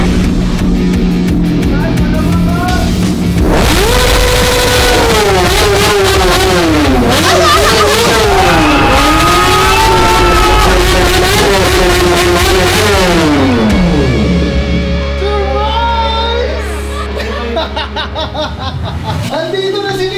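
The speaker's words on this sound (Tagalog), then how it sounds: "My Ninja Super Bike is here!" Kawasaki Ninja super bike engine revving loudly and close, rising and falling in repeated throttle blips before settling toward idle, with people chattering and laughing over it.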